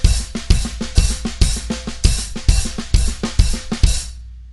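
Short, clipped drum fill moving between hi-hats and snare, its notes cut off to make it tighter, played as a fast string of sharp hits in a steady rhythm, close and loud, ending with a brief ring-out.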